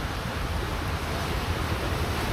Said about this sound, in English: Look at the water gushing in.